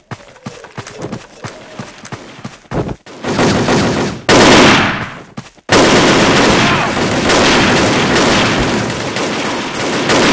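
Video game gunfire crackles in fast bursts, first sparse single shots, then loud sustained automatic volleys that fill the clip up close.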